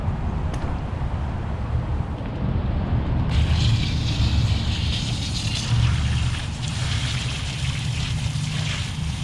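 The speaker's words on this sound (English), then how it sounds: "Here to wash out a tie-dye towel." A steady, loud rush of running water rinses a large tie-dye bath towel, continuous and close throughout with brighter splashing after the first few seconds, with no talk.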